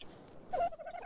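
Dodo in ARK: Survival Evolved giving a short gobbling, turkey-like call, a single warbling burst followed by a couple of softer trailing chirps, close and clear with no talking.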